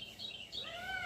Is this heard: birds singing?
yes